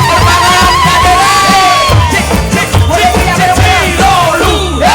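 A large crowd at a live comedy show in Plosoklaten, Kediri cheers and shouts loudly and continuously, with whoops and yells rising over a dense wall of voices.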